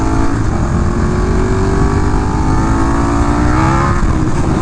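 A KTM 1290 Super Duke R motorcycle roars steadily at high revs under hard acceleration, with a loud, continuous engine drone and rising pitch.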